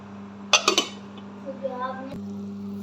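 A metal cooking pot of Filipino tinulaga being stirred and then covered: a quick cluster of three sharp clinks, a few softer scrapes, then the lid set down with a short clatter over a steady low hum.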